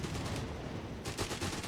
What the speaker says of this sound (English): More of those heavy machine guns.